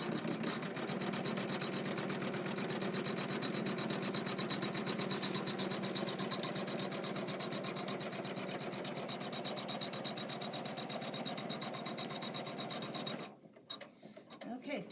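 An embroidery machine stitches a zipper pouch, running as a loud, steady, close-up whir for most of the stretch before stopping abruptly near the end, leaving only faint handling noise.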